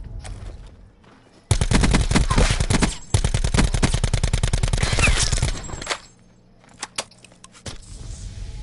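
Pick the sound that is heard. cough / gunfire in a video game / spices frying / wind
gunfire in a video game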